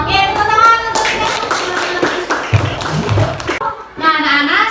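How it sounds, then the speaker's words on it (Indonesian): A class of children claps together in an Indonesian classroom, a loud burst of fast clapping mixed with their voices and singing-like chatter, close and lively throughout. "Oke, tepuk tangan untuk kita"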